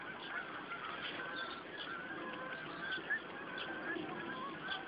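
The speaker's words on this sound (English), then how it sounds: "You just hear the sound of geese." Geese honking in a field beside a canal, repeated calls from a sizeable flock at some distance, faint and overlapping over soft outdoor background noise.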